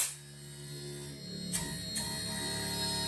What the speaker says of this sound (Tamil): இப்போ ஹை ஆம்ஸில் வந்து கம்ப்ரஸர் ரன் ஆகிட்டுருக்கு.